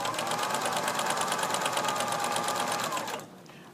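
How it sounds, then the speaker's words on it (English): A sewing machine runs a zigzag stitch along a fabric seam to finish the raw edge, with a fast steady mechanical chatter close by that stops abruptly near the end. "We want to use this zigzag to finish the seam, to prevent the seam from fraying."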